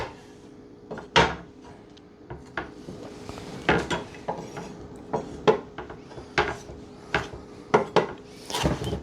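A knife chops a jalapeño finely on a cutting board in a home kitchen, giving a series of irregular, sharp knocks close by. The knocks come in clusters against a quiet background.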